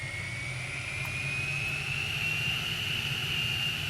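An aircraft engine roars at full throttle in the video game SimplePlanes, a loud, steady drone with a high whining tone that rises slightly, continuous and unaccompanied by speech.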